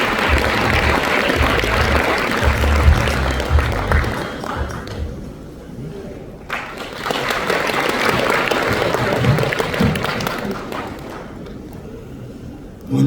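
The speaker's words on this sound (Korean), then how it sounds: "여러분 박수로 모시겠습니다." An audience claps in a hotel ballroom at a regional association's year-end party, a loud, close burst of applause that fades, then a second wave before tapering off.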